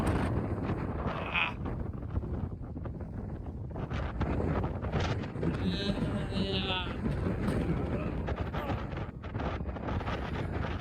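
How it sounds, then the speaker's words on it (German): Strong wind buffets the microphone outdoors beside bluestones, a loud, continuous roar with gusty surges throughout, while a voice talks faintly beneath it. "ist einfach nur windig, ist unglaublich"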